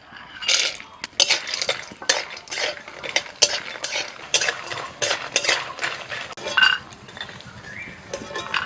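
A metal pot is opened to check boiled bottle gourd, with repeated clinks and scrapes of a utensil against cookware. The clatter comes in close, sharp bursts over several seconds.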